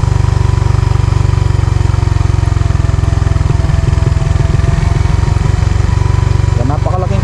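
A manual motorcycle engine runs steadily close by on a steep road, a loud continuous low rumble with a brief change in its throb midway and a voice at the end.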